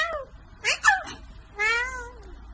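Voice imitation of a cat meowing by a performer making the sound without hands, a few short mews followed by one longer drawn-out meow, close and clear with little background.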